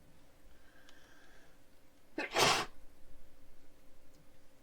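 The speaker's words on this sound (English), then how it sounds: "I'm stifling a sneeze here." One muffled, held-back sneeze bursts out briefly in a quiet room, with soft breathing before and after.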